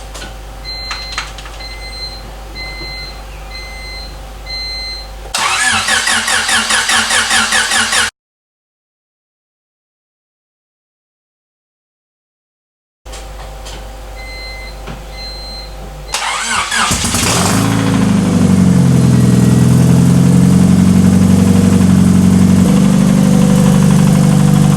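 A 1999 Honda Civic engine with a worn bearing cranks over, cuts out, then catches and settles into a loud, steady running drone that holds to the end; no talking.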